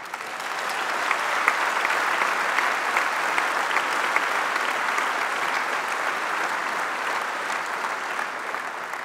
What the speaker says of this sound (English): we should applaud all those involved in it